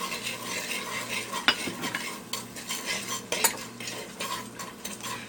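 A utensil stirs and scrapes around a pan of cocktail meatball sauce with brown sugar and apple cider vinegar, giving irregular metallic scrapes and clinks over a low sizzle.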